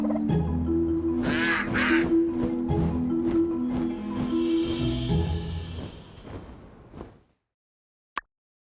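Repeated honking duck quacks from the video game My Time at Sandrock come in a quick, steady series over a sustained droning tone, then fade to silence, with a single sharp click at the very end.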